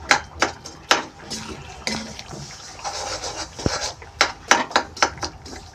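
A spoon scraping and clinking against a pan while jaggery is stirred into hot ghee for gond pak, giving sharp irregular knocks and scrapes at close range with a soft sizzle beneath.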